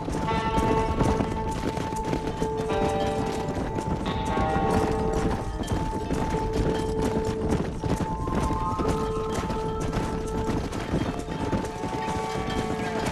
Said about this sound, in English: Control that horse, will ya?